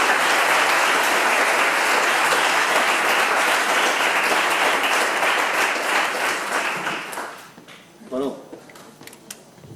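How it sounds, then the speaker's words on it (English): A seminar audience applauding its organizer, loud sustained clapping from many hands that fades after about seven seconds, followed by a brief voice and scattered sounds. "you should give him a round of applause for this fantastic seminar they have organized"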